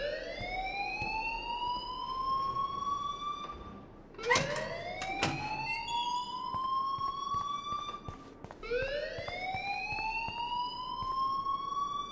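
Alarm ringing in the video game Life is Strange, a loud electronic siren that sweeps upward in repeated rising wails, three cycles with brief clatter between, no talk.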